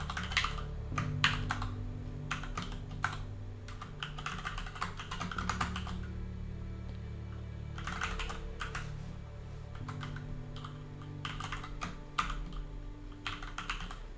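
Quiet, steady typing of code on a computer keyboard, with rapid clusters of key clicks broken by short pauses under a low background hum. No one speaks.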